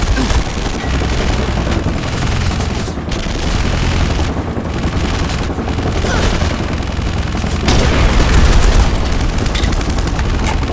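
Dense, continuous bursts of gunfire and booming explosions from a bombing run in the Terminator Salvation video game, loud and chaotic with heavier blasts swelling near the end.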